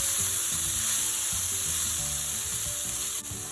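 Partly cooked vegetables sizzle steadily in a pan after turmeric, coriander powder and cumin powder go in, a loud continuous frying hiss with low stirring scrapes underneath.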